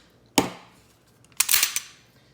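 Slide of a SIG Sauer P220 .45 ACP pistol racked to show it clear: two sharp metallic clacks about a second apart, the second a quick double snap, close and loud against a quiet background.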